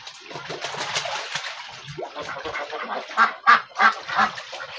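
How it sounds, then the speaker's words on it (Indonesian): Domestic ducks kept in a poultry setting quack and honk in a noisy cluster, several birds calling close by with louder overlapping bursts toward the end. "Ini bebek teman-teman ya."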